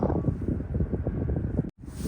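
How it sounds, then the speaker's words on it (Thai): Strong wind gusts buffet the microphone outdoors among wild plants, a loud, steady broadband roar that breaks off abruptly for an instant near the end before resuming. "วันนี้ลมแรง"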